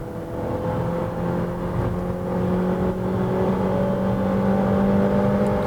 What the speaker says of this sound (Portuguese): vamos acelerar tudo até 120 para ver como é que o carro responde